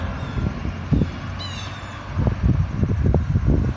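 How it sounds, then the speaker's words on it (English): A loud yard waste truck rumbles past on a residential street beside a school walking route, low engine noise surging and rattling with wind buffeting the microphone. "It's a yard waste truck,"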